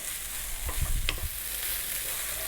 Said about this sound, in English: stay on this high heat and fry the rice